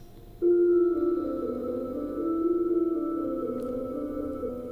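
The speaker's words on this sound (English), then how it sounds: "And then I made this other piano bounce and place layer running through another Filterverse preset." Piano layer bounced and run through a Filterverse filter plugin preset, giving a soft, sustained, bell-like filtered tone that swells in after a brief silence and holds steadily at moderate level.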